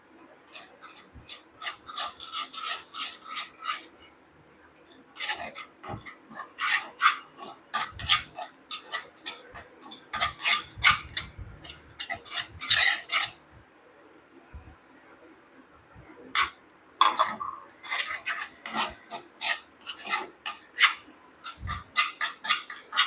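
A paste mixed with rice water in a bowl makes quick rhythmic scraping and rubbing strokes that come in bursts, close and fairly loud, with short pauses between them.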